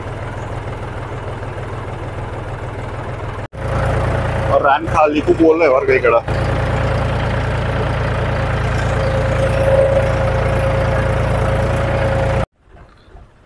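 A farm tractor idles in the fields, its steady droning hum running unbroken for most of the stretch while someone speaks briefly over it, then the engine noise cuts off abruptly near the end.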